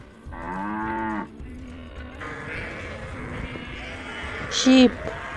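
A cow moos in a long, loud, close bellow, followed by quieter lowing and farm background noise with a brief higher bleat-like call near the end.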